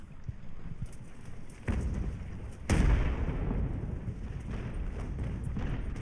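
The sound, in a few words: naval cannon fire in video game Ultimate Admiral: Age of Sail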